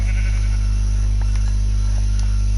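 A single short sheep bleat from Minecraft sounds over a loud, constant electronic hum and buzz, with a few faint clicks.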